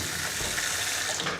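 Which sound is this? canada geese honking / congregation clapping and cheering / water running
water running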